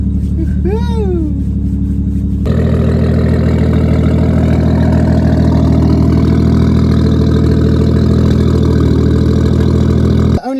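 A Mercedes C180 with turned-up boost settling into a steady, loud idle right after starting, a constant low engine drone close up with a brief higher whine before it catches.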